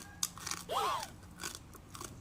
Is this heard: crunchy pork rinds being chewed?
yes